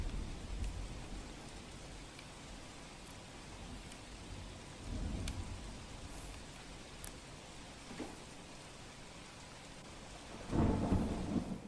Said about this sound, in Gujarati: આજે પણ વરસાદ ખાબક્યો